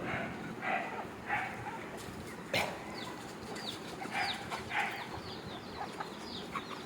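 Country chickens cluck and chatter close by as they are fed cooked rice in the morning, a steady low scatter of soft clucks with a few sharper calls over quiet outdoor background.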